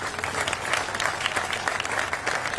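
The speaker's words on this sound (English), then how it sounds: "A round of applause for these guys." Outdoor crowd applause at a Seattle Mariners statue unveiling ceremony for Ichiro, a fairly distant, even patter of many hands clapping with little else over it.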